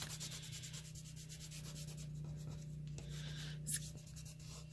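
Paper is rubbed down onto wet glue on a small art card, a soft continuous rubbing and scuffing with a steady low hum beneath and a brief sharper scrape near the end.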